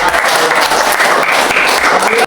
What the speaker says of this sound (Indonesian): Biasa tepuk tangan.